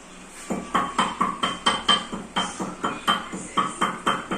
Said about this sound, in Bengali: ভাজা মশলাটা একটু গুঁড়িয়ে নিই যতটা পারা যায়।